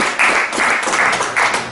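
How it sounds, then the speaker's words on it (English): Applause from an audience honoring the final class of Pioneer football players at a 2015 sports ceremony, a short burst of clapping that rises and swells in waves, fairly loud and close. "give one final round of applause for these guys"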